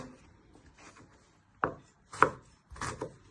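Knife slicing a small piece of ginger finely on a cutting board, three quiet distinct chopping taps spaced apart, close and faint.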